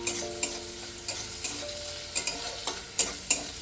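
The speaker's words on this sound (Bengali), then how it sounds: "নিয়ে আমি তেল গরম করে পেঁয়াজটা দিয়ে দিলাম। পেঁয়াজটা ভালো করে একটু ভেজে নেব," Sliced onions fry in hot oil in a pan while a spatula stirs them, the steady sizzle broken by sharp scraping and clinking strokes, close and fairly loud.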